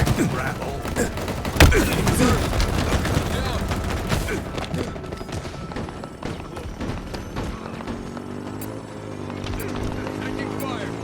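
Incoming gunfire in a Halo Infinite Big Team Battle match, a dense, loud barrage of rapid shots and impacts with a sharp blast near the start, easing into quieter tonal game sounds near the end.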